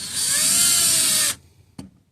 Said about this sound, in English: Now, granted, this is just a drill.